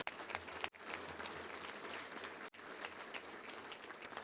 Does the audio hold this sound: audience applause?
yes